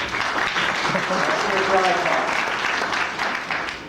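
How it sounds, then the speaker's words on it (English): Applause from a conference audience at a space tourism plenary, a dense steady wash of clapping that carries on evenly and begins to taper at the end, with faint voices mixed underneath. "you're in the right room when that gets a round of applause"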